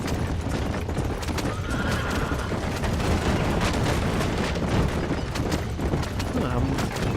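Horses gallop in the Red Dead Redemption video game with dense, continuous clip-clop hoofbeats and a neigh, loud and close throughout a thick, busy game soundscape.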